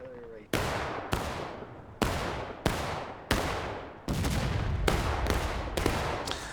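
Civil War artillery cannon fire in a battlefield video game, ten or so heavy booming shots at irregular intervals with long decaying rolls, some overlapping near the end, moderately distant and fairly quiet.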